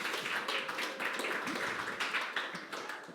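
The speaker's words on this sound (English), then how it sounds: "I think that deserves a round of applause." A church campus congregation gives a round of applause for a couple's anniversary, dense clapping from many people sustained evenly with slight swells, fairly close and full.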